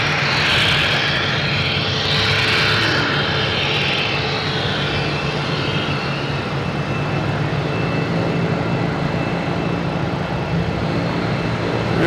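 American Airlines Airbus A319 taking off at Boston Logan, a loud sustained engine roar that builds early with a hissing high whine, then settles into a broad steady rumble; no talking.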